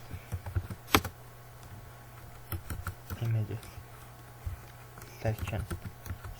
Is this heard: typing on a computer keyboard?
yes